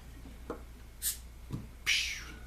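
A quiet scene with a couple of soft taps, then a bright, short hiss of gas escaping as the cap of a bottle of 9.3% English barley wine is opened.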